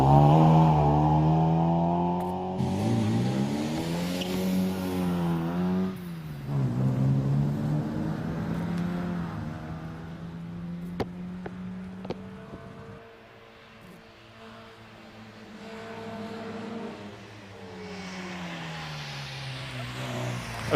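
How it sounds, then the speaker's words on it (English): An MGB GT racing car drives up the Prescott Speed Hill Climb, its engine revving up and down through gear changes, loud at first, then fading as it moves away, swelling again near the end. "he is followed by Brian Ashley in the first of the MGB GTs"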